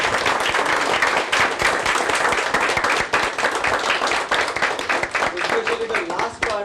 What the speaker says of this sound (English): I would request all of you to have a big round of applause for this.